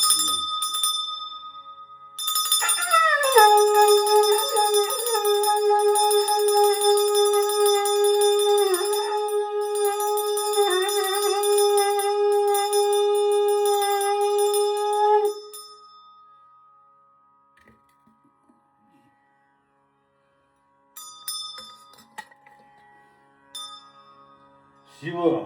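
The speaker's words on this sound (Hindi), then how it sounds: "शंखघंटं वाद्यं" A conch and ritual bell sound during a Shiva puja: a long, loud, sustained horn-like tone with a rising start holds for about twelve seconds, then fades to near silence before scattered faint sounds return.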